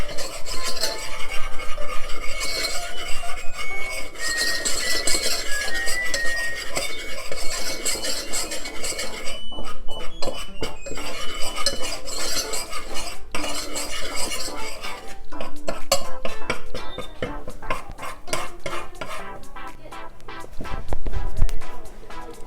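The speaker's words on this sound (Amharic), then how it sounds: "ከዛ ዝም ብዬ አማስለዋለሁ" Flour batter for pizza being stirred steadily in a bowl, a continuous close rasping and scraping of the utensil with quick repeated strokes, heard alone without talk.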